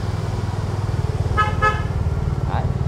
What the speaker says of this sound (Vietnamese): có xe lớn phía sau bóp còi